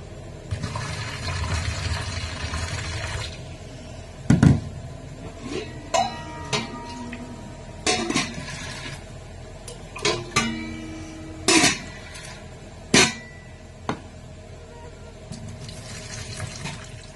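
Dried peas washed in water in a metal pot, a running splash and swish followed by repeated sloshing and knocks against the pot, close and fairly loud.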